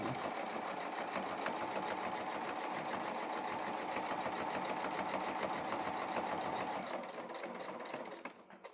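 A sewing machine runs steadily, stitching a line along a triangle quilt, its fast even whir continuing without pause before stopping abruptly near the end.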